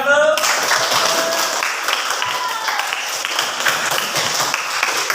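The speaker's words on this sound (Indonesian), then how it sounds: "Tepuk tangan untuk kelompok 1." Students in a classroom applaud a presenting group with dense, continuous clapping that holds at a steady level throughout, with voices mixed underneath.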